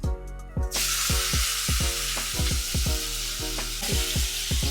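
Onion dropped into a hot frying pan bursts into a loud hiss after a brief quiet start, then keeps sizzling steadily under repeated short scraping and clinking strokes of a spatula.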